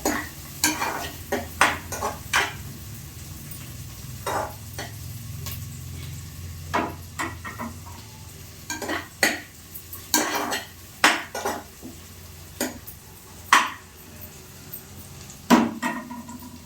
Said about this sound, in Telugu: ఉల్లిపాయలు వేసి కొంచెం వేయించుకుందాం.